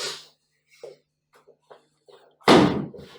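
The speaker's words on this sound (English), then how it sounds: "Close the door as well." A door shuts with a loud, sharp slam in a meeting room, heard near the end after a few faint, scattered sounds.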